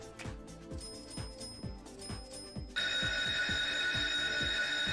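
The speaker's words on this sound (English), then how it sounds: "Ringing the bell again." A slot machine bell rings loudly and steadily in the second half, over a pulsing electronic jingle with repeated beats.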